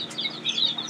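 Desi tiger-breed chicks about 12 to 15 days old give faint, high, thin peeping chirps in short scattered bursts, close by with no talk.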